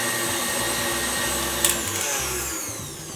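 A KitchenAid stand mixer whips chocolate cake batter, giving a constant loud motor whir with a rhythmic churning undertone and one brief knock, close by, with no talk.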